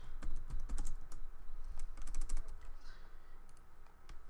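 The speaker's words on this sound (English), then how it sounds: "I don't even need to copy and paste that. I can just type it." Fingers tap out a tag on a computer keyboard in short clustered bursts of clicky keystrokes with brief pauses between them, close up and with no speech.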